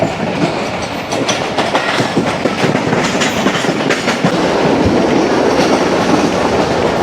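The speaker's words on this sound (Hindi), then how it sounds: "ट्रेन हमारी लाखा रोड रेलवे स्टेशन को ज़बरदस्त पास थ्रो करने जा रही है" A Pak Business Express train passing Lakha Road railway station, loud and close, with a steady roar and rhythmic clickety-clack of wheels over rail joints throughout.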